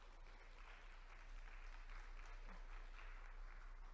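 Audience applause in a church fills the space as a steady, moderately loud wash of clapping that holds for several seconds and swells slightly midway, with no talking over it.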